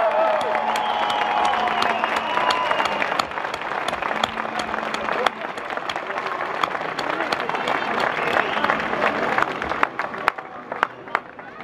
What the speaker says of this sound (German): einen ordentlichen Applaus zu schicken